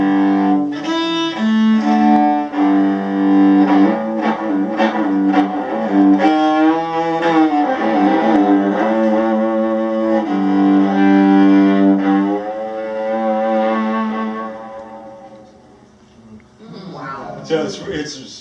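A bowed string instrument sized between a viola and a cello plays a slow, sustained melodic line with rich low tones and some gliding pitch, up close for most of the stretch, ending with brief noisy handling.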